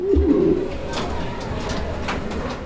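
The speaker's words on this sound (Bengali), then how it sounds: "বন্ধুরা আমরা এই মুহূর্তে দেখতে পাচ্ছি এখানে চমৎকার আরও এক জোড়া কবুতর আছে" A pair of fancy pigeons coos close by in a low, throaty burst at the start, followed by softer murmuring against a steady background hum.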